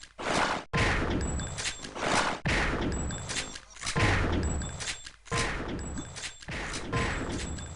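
Instagib railgun shots fired during rifle jumps in a Quake match: a series of sharp, loud cracks spaced roughly a second apart, each trailing a short ringing decay, with metallic pings between them.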